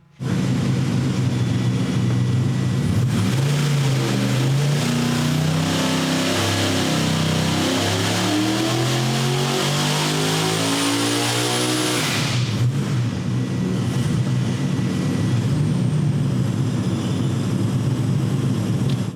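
A tuned car engine revs hard on a dynamometer during a timing-adjustment pull, climbing steadily in pitch for about twelve seconds before dropping back to a loud, rough idle.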